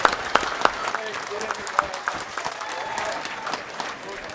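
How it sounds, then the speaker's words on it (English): A crowd at a boys' high school state bowling tournament applauds the bowlers, scattered sharp claps over a murmuring arena with voices mixed in, moderately loud and somewhat distant. "let's give these bowlers a nice round of applause as they begin their pursuit of a state championship"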